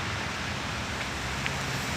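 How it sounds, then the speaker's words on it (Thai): Steady rain falling outdoors, a dense even hiss with faint scattered drop ticks, continuous and moderately loud with no talking. "ฝนลงเม็ด อีกแล้วนะครับ"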